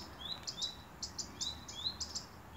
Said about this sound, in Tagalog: And only you can hear the tweet tweet tweet of the bird here.